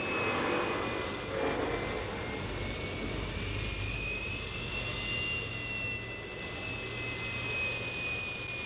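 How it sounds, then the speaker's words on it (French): A Dassault Mirage III jet fighter rolls down runway 10 and climbs away, a steady, loud broadband roar with a high whine holding throughout, no voices. "On voit ici l'avion qui décolle de la piste 10"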